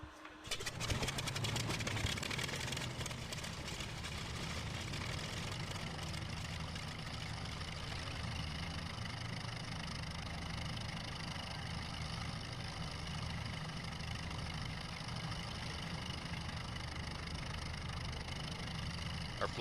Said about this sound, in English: All right, let's fire up our engine.